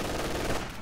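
Machine gun firing in Company of Heroes 2 battle, a dense, rapid burst of rattling shots lasting under a second.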